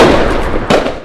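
Fireworks burst across a dark night sky, with two loud, close booms and a rumbling crackle trailing after them. No voices are heard.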